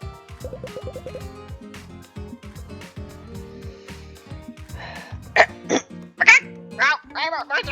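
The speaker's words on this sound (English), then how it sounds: "The chicken making chicken noises." A chicken in the Touhou game Crimson and Vermilion makes short, sharp squawking and clucking bursts, bunched in the second half and loud over quieter game music.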